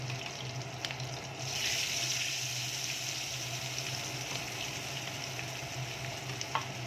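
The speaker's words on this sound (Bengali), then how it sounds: "এবার মশলাটা একটুখানি কষবে।" Spice paste for a hilsa fish curry with black cumin (kalo jeera) sizzling and frying in a pan: a steady, moderately loud hiss with occasional spatters and a brief stir or scrape, no talking.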